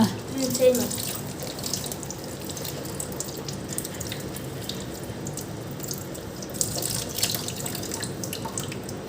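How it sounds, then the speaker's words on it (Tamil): Raw chicken pieces are rinsed under a running kitchen tap, with a steady rush of water and splashing throughout and a faint voice now and then underneath. "இப்போ இதெல்லாம் கழுவ போகிறோம் நாம இதெல்லாம் எப்படி கழுவணும்"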